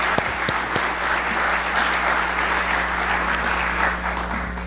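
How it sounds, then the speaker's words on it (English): An audience at a government acquisition conference gives a steady round of applause after a speaker's remarks, a continuous even wash of many hands clapping in a hall, with a few sharper nearby claps at the start. "Please give him another round of applause for those great remarks"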